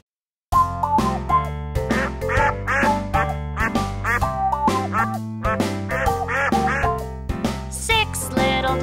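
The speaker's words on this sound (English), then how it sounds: "he led the others with a quack" Rapid, repeated quacking over a bouncy musical backing, sounding like a cartoonish duck call woven into a song.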